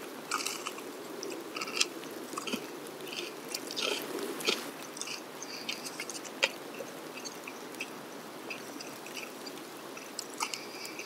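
Close, soft eating sounds: steady chewing with small crunches, wet squishes and occasional bites throughout, recorded quietly for ASMR with no talking.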